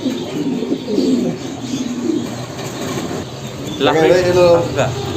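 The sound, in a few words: Lahori pigeons cooing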